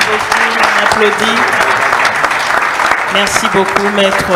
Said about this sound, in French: Merci beaucoup, on applaudit.